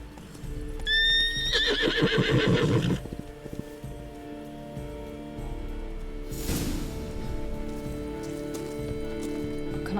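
A horse in The Witcher 3 gives a loud, close neigh with a rising whinny and rapid fluttering snorts, followed by quieter hoof and ambient game sounds and a later soft burst of noise.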